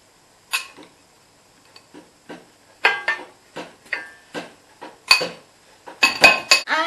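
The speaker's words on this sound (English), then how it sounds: "we're going to cream together the sugar, so the 8 ounces of caster sugar, with the 8 ounces of either butter or margarine" Caster sugar being creamed with butter or margarine in a bowl, with a spoon or utensil clinking and scraping against the dish in irregular bursts, close and fairly loud, no talking.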